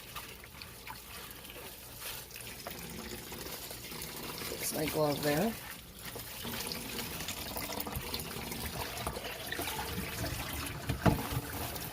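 Water splashes, trickles and is poured off as hand-dyed yarn is kneaded and rinsed, with a short burst of louder dumping midway, under ongoing talk close by.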